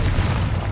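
A single deep, booming blast from the Confringo curse in Hogwarts Legacy, loud and close, filling the whole short moment with low rumble.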